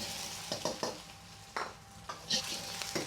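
Egg scrambles in hot oil in a wok over maximum heat for fried rice, a constant sizzle broken by several sharp scraping strokes of a utensil against the pan, close and clear.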